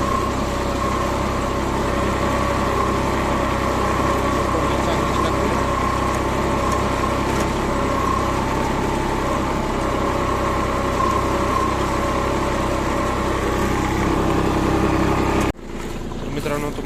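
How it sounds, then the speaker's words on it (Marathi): A tractor engine with cultivator tines attached runs at a steady, loud, droning idle for about fifteen seconds, then abruptly drops in level near the end. "चालू केले पंजे, ट्रॅक्टर चालू केला"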